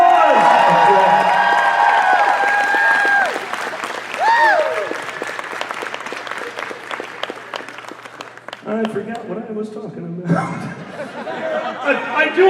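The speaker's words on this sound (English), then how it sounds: "Give a round of applause." Applause and cheering from a convention audience, loud at first and tapering into scattered crowd chatter and laughter, with a voice speaking over it through the second half.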